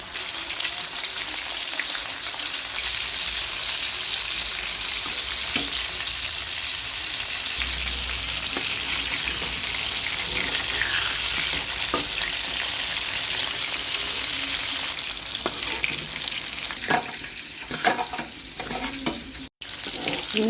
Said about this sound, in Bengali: এবার আমি এগুলোকে ভাজবো। তেলটা মনে হচ্ছে বেশি গরম হয়ে গেছে আমার।